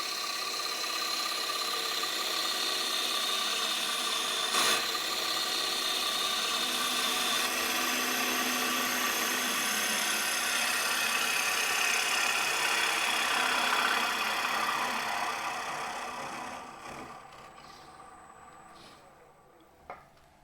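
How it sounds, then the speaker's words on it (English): Light cut from a wood lathe gouge on a turning bowl: a steady, fairly loud whir with a continuous scraping hiss that holds for about sixteen seconds, then fades as the cut ends, with a brief tap near the close. "I'm going to present that to the bowl at about a 90-degree angle to start the cut. I'm going to do a light cut."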